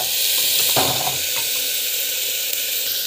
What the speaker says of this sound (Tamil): ஸோ வெங்காயம் போட்டுட்டு நல்லா வந்து வதக்கும்.